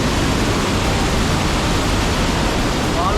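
Water rushes down a steep waterfall in the wild, heard as a loud, continuous, dense roar with no breaks that fills the whole clip.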